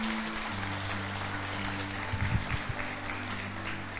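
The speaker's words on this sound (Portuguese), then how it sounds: "Aplauda o Senhor." A church congregation claps during a Portuguese-language worship service, a steady wash of applause over a low sustained organ or keyboard tone, with a few sharper louder claps near the middle.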